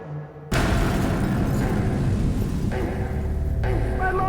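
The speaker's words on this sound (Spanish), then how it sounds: "Creo que William Jarvis esperó cerca de allí hasta que oyó la explosión" Package bomb going off inside a home at Christmas: an abrupt loud blast after a quiet start, followed by a dense sustained roar and rumble that fills the rest of the clip.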